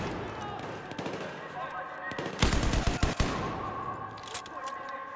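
A machine gun in the video game Battlefield 4 fires a short, dense burst of rapid shots in the middle, with sporadic distant gunfire and game noise around it.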